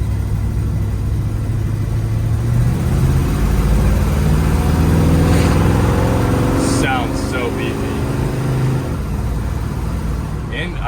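A 1957 Chevrolet Bel Air drives steadily with its engine droning loud and close, the pitch rising and dropping as it shifts gears, and a voice talks over the running engine partway through.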